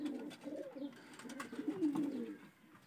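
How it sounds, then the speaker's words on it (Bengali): White-headed Murshidabad giribaj pigeons coo softly and repeatedly close by in a series of low, throaty, rolling calls. "এটা মুর্শিদাবাদের পায়রা, মুন্ডি সাদা"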